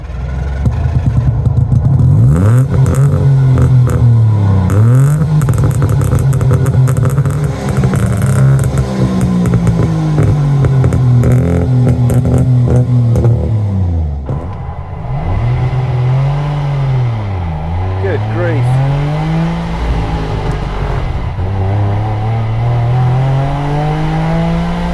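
A rare German two-stroke estate car drives on country roads, its engine buzzing and rising and falling through gear changes, close and loud throughout with no talking.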